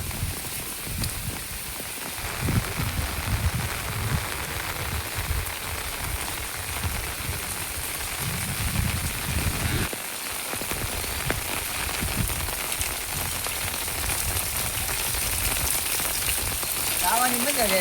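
Steady rain falls on a farmyard where buffalo stand out in the wet, a dense continuous patter of drops on surfaces, with low rumbling underneath and faint voices in the background.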